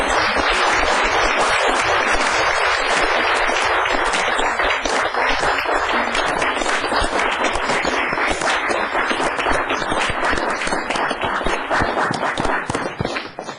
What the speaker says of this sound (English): So have a big round of applause.